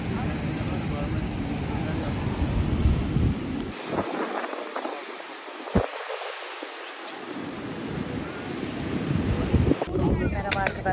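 Sea waves and wind on Şile beach on a cloudy, wavy day, a steady broadband roar with loud wind buffeting the microphone, a brief drop near the middle, then surf rushing back in.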